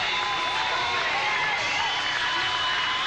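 Bodybuilding contest fans in Toronto keep up a loud, continuous roar of cheering and shouting, a thick wash of crowd noise with scattered whoops and a voice talking over it.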